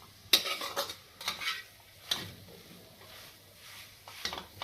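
A spoon scrapes and taps inside a metal pan as a ladoo mixture with cardamom powder is stirred, making intermittent clinks and scrapes at an irregular pace, fairly quiet and close.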